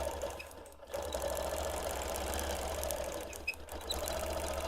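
A sewing machine runs steady ditch stitching on a quilt, a close, even mechanical whir that pauses briefly twice.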